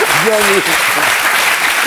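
Studio audience on a French TV talk show breaks into loud, steady applause that fills the whole moment, with a man's brief spoken remark over the top near the start.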